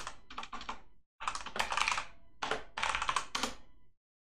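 Rapid bursts of keystrokes on a computer keyboard, clattering close to the microphone in three quick runs separated by short pauses, with no talking.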